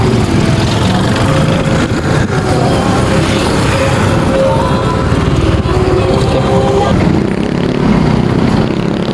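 Loud, continuous motorcycle-like engine drone from a tricycle in motion, steady throughout with road rumble; faint voices may be mixed in underneath.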